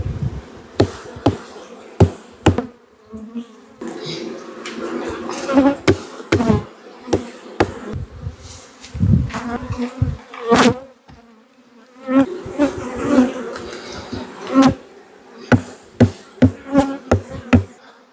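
Honey bees buzz around an opened hive box, a steady swarm drone punctuated by repeated sharp knocks and scrapes of a hive tool against wooden frames.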